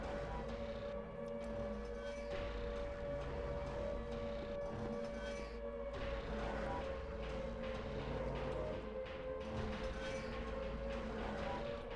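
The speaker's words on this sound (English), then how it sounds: "I think that was the siren going off." A siren sounds in the video game Silent Hill 2 Enhanced Edition as a long, steady droning tone held without a break, moderately quiet over a dense, rumbling ambient bed.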